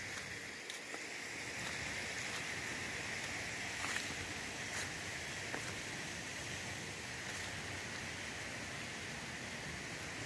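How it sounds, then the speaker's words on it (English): A brook runs and tumbles like a small waterfall through a deep forest ravine in Dobbs Ferry, making a steady, even rush of water that continues unbroken without voices. "Probably hear the water flowing like a very nice waterfall."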